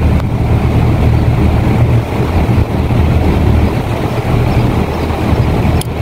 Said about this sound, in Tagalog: Compressor na yung andar natin.